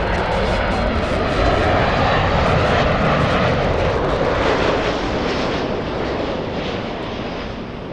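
An Alaska Airlines jet from Seattle takes off at Los Angeles International Airport, its engines a loud, sustained roar with deep rumble that stays close and powerful before easing slightly toward the end, with no talk.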